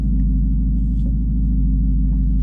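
A 2019 Ford Mustang GT pulling away on a cold day: a loud, steady, low engine rumble with a throbbing pulse, heard from inside the car with no talking.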